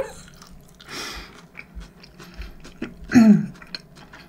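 Crunchy vegetables being chewed during a mukbang eating show: close, moist bites and crisp crunches at an irregular pace, with one louder snap near the end, otherwise quiet.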